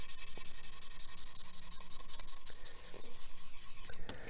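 Sandpaper rubs back and forth on a plastic Unicorn Gundam model kit part in a steady, close, quiet scratching rhythm of quick even strokes, with no talking.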